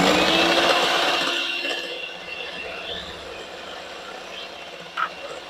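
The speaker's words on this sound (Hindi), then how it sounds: "तो ये थोड़ा थोड़ा डाल के तो मैं इसको बीट करती जाती हूँ।" Sugar and oil being beaten together by hand for a tea cake batter in a home kitchen, a steady scraping, whisking rustle that starts fairly loud and eases off, with one short knock near the end.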